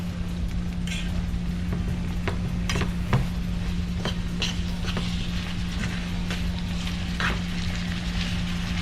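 Seasoned food for a Jamaican breakfast sizzles and fries steadily in a pan, a constant close crackle with occasional sharp clicks of a utensil stirring against the pan, no voices.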